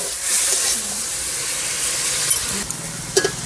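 Mustard paste water poured into a hot pan for a village-style Bengali fish dish hisses and sizzles steadily, close and loud, with a few clinks of stirring near the end.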